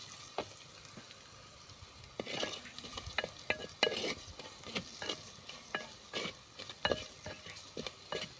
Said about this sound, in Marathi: तेल सुटेपर्यंत मसाला चांगला आपल्याला परतून घ्यायचा आहे